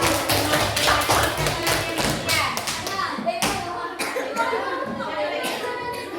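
Children in a classroom clap their hands in uneven bursts of sharp taps and thumps, close by and moderately loud, with children's voices and chuckles mixed in.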